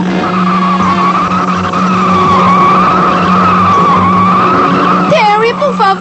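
Cartoon vehicle skidding down a mountain with failed, worn-out brakes: a long, loud sustained tire screech runs throughout over rumbling, with shouting voices and zany sliding tones near the end.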